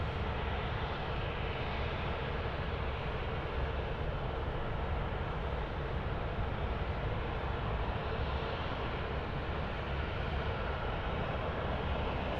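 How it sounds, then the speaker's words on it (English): Air India Boeing 787 on final approach to runway 16R at Sydney Airport after a long-haul flight, a steady broadband jet roar holding constant and fairly distant throughout with no talk. "Air India 302, the 787 now finals, runway 16 right"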